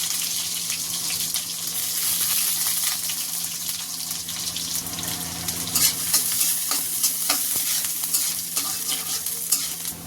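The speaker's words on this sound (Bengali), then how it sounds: "তেলটা গরম হয়ে গেলে এখন আমি পেঁয়াজ রসুন দিয়ে দিলাম।" Onion and garlic fry in hot mustard oil in a pan, a loud continuous sizzle with bursts of stirring and spatula scrapes toward the end.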